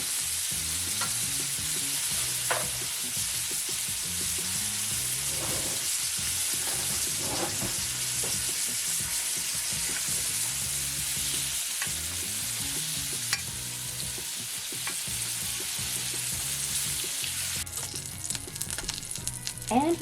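An over-easy egg fries in a hot pan, a steady close sizzle running throughout, with faint scrapes and low background sounds underneath and a sharper burst of crackle near the end.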